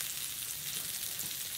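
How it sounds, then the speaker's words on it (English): Salmon pan-frying in oil gives a steady, even sizzle with a constant crackle and no pauses or voices over it. "let's add a little bit of oil, almost a pan frying it"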